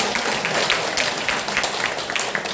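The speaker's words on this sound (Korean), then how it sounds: "박수 부탁드립니다" Audience applause at a senior college special lecture in Gimpo, many hands clapping in a steady dense patter that fills the whole stretch at moderate loudness, with no talk over it.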